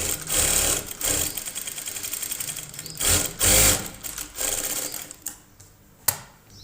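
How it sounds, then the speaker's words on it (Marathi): A sewing machine runs close by, stitching the neckline of a blouse in bursts of rapid needle chatter with short pauses between runs and a sharp click near the end. "इथं गळ्याला आधी टिप मारून घेऊ."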